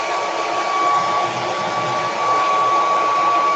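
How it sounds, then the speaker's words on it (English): A blow dryer runs at close range to blow excess glitter off a rag, a steady, loud whirring hum with a high whine that continues without a break, with no talking. "I'm going to hit it with the blow dryer just to try to get some excess"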